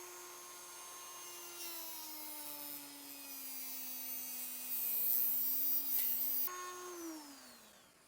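Rotary tool at roughly three-quarter speed chamfering cylinder ports on a Johnson Looper outboard engine block, a faint steady high whine with slight pitch dips as it loads against the metal.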